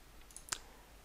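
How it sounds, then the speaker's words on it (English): A single sharp computer mouse click, made while working in 3D rendering software, stands alone against a quiet background. "click on open, click on opacity"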